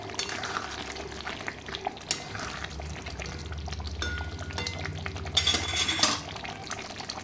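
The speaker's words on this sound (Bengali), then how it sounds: "এবার এটাকে নাড়াচাড়া করার পরে আবার ঢাকা দিয়ে দেবো।" Chicken masala with chopped capsicum being stirred in a pan, a soft frying hiss with rhythmic scraping and occasional clinks of the spoon against metal, fairly close and continuous.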